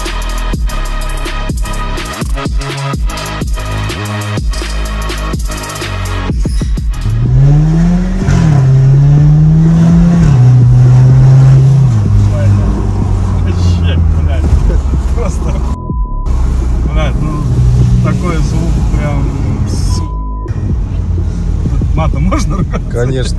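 A 2.0 turbo Audi A5 with a tuned exhaust revs hard in sharp bursts, then settles into a deep, loud rumble with rising and falling engine sweeps, heard up close.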